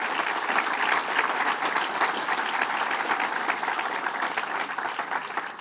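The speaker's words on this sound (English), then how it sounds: "Let's give her a round of applause." Sustained crowd applause fills a political bill-signing event with Governor Cuomo, steady dense clapping from many hands at close range, holding loud throughout with no talk over it.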